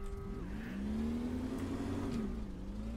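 Car engine in the Brick Rigs video game revving steadily, its pitch climbing then dropping as the gearbox shifts, close and continuous through the whole stretch.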